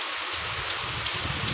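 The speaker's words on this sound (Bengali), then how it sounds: "ফাইনালি আমাদের এখানে বৃষ্টি শুরু হয়ে গেছে" Steady rain pours outside an open window, a dense continuous hiss that runs throughout, with low rumbling underneath and no voices.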